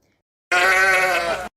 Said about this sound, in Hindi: भेड़ मिमियाना।